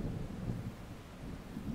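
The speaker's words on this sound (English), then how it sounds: "Maybe the flashes and thunder will come nearer." Distant thunder over the Skye shore rolls as a low, continuous rumble, steady and moderately soft, with no voices or other sounds on top.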